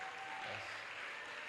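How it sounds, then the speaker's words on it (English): Faint, steady round of applause from a seated crowd at a counseling event, an even wash of clapping heard from a distance. "you will give a round of applause for yourself and your guardians"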